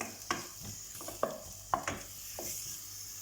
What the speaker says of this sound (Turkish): Soğanlar pembeleşinceye kadar soteliyorum